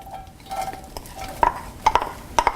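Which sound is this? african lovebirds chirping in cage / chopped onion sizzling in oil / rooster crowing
chopped onion sizzling in oil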